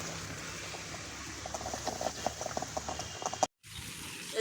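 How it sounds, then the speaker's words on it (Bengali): Dal (lentils) in a pot comes to a boil, giving a steady broadband simmering hiss dotted with small bubbling pops. The sound drops out briefly near the end before resuming. "ডাল আমার বলক আসছে"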